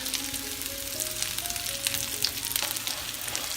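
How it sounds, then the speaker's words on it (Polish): Mushrooms and small pre-boiled potatoes fry in a pan beside duck, giving a steady, close crackling sizzle with dense spitting pops throughout and faint background tones underneath. "do kaczuszki podsmażamy grzybki"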